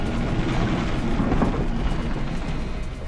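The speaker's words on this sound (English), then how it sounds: "You could hear the hail hitting the plane." Hail drumming on an airliner during a storm, a dense rumbling roar of impacts inside the cabin, steady and moderately loud throughout, with no talking.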